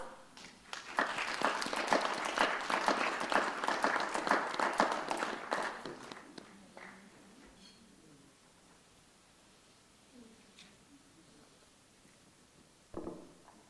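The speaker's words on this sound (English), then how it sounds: "So if we could give them a round of applause." A crowd applauds warmly for several seconds, the clapping tapering off into quiet room noise, with a single brief sound near the end.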